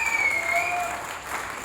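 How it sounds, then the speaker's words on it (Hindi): Audience applause at a team coordinator rank celebration in Jim Corbett, a loud, continuous burst of many hands clapping, with a faint whistle or voice tone sliding over the top before it eases slightly. "मेरे एक तरह से जबरदस्त प्यारे लीडर हैं मिस्टर श्रीराम चौधरी सर, के लिए जोरदार तालियां होनी चाहिए।"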